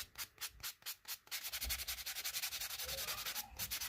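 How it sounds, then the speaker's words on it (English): A buffing block rubs across an acrylic nail, first in about seven quick separate strokes, then in fast continuous scrubbing; close and quiet with no talk. "I'm going to take my buffing block, and I'm going to go ahead and buff that nail"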